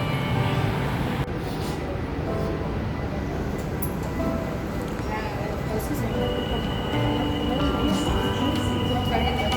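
Steady rumble of a moving MRT metro train in the Philippines, with faint wheel squeals and clatter; a voice speaks softly beneath the noise.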